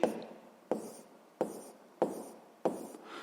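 Pen strokes write out a sixth-grade math solution, five brisk scratching bursts at an even pace, close and quiet.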